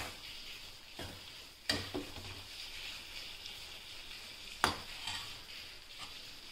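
A spoon stirs eggplant (baingan) curry sizzling in a pan, soft frying hiss underneath with a few sharp clinks of utensil against the pan, quiet and close.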